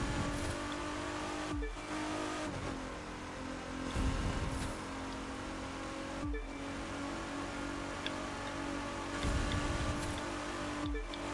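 Racing car engines in The Crew 2 drone steadily during a race, the sustained whine broken by brief gear-shift dips and tire noise, fairly loud and continuous with no talking.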